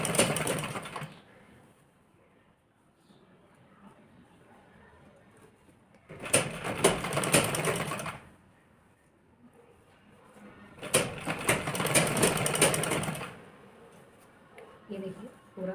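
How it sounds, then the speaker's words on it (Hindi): A sewing machine stitches along the edge of blouse fabric in two sustained bursts of a few seconds each, separated by quieter pauses with faint handling noises. "मैं इस पर ऐसे ही सिलाई मारूंगी, इसके ऐसे किनारे किनारे पर सिलाई मारूंगी"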